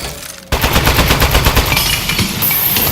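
A toy turret fires in an office after a quiet moment: a sudden, loud stream of rapid, evenly spaced shots rattling on steadily for a few seconds, close and alone without any talking.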